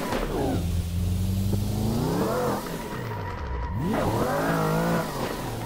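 The engine of a BMW e92 drift car in a driving video game revs up and down through repeated pulls, its pitch sweeping upward and falling back, loud and continuous with no talk.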